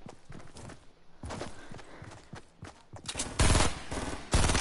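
Shotgun blasts from a video game firefight, several loud sharp shots in quick irregular bursts with the biggest reports near the end, no talk.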